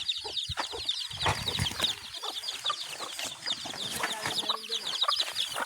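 Chickens and small chicks on a small farm, steady high peeping from many chicks mixed with scattered clucks from adult hens, fairly close and moderately quiet, with no talking.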